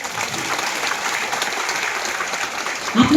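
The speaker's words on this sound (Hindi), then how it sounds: "तो जोरदार ताली के साथ।" A congregation at a Hindi motivational sermon by a bishop claps loudly and steadily, continuous dense applause that swells near the end.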